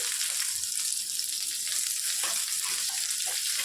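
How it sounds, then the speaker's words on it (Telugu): Sliced onions and a torn dried red chili frying in hot oil in a pan, giving a steady, close broadband sizzle throughout with a few faint stirring scrapes. "బాగా ఫ్రై చేసుకోవాలి"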